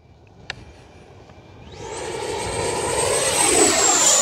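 An FMS F-86 Sabre 80mm electric ducted-fan RC jet flies on a very windy day, its turbine whine rising into a steady, loud rushing roar after a faint start, with no voices.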